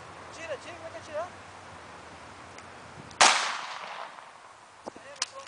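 Single sharp gunshot-like crack midway during tactical training, loud and close with a decaying tail, amid background voices and a few smaller clicks and bangs near the end.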